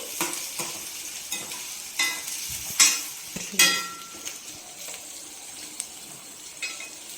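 Egg curry masala stirred in a pan, a soft frying hiss broken by irregular scraping strokes and a few sharper clinks of the spoon against the pan, close up with no speech.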